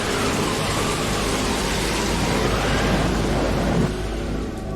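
Heavy rain pours steadily during a stormy night, a dense continuous hiss with a low rumble of thunder beneath, loud and unbroken throughout.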